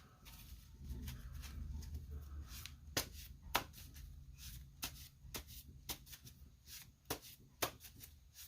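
Cards being shuffled nearby, a soft riffling rustle followed by a series of sharp, crisp snaps and taps as the deck is squared and bridged.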